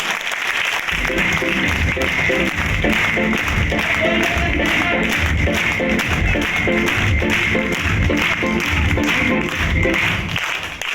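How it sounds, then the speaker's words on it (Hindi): Loud, sustained applause from an audience, thick steady clapping filling the room for about ten seconds before tapering slightly at the end. "एक बार जबरदस्त तालियां होनी चाहिए उनके लिए।"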